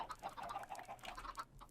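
Many penned chickens in Minecraft give rapid, overlapping short clucks, a busy, fairly close chatter that continues throughout without pause.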